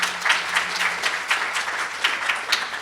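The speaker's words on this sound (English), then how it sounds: "Let's give them a round of applause." An audience at a finance panel session breaks into sustained applause for the panelists, a steady wash of many hands clapping at close range with no talk over it.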